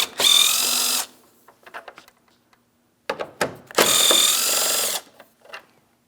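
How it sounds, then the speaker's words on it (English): A power tool zips out 10mm bolts on a 2007-2014 Ford Edge 3.5L front bumper area, two loud whirring bursts about a second each, separated by small clicks and handling noises. "Let's remove our 10mm bolts."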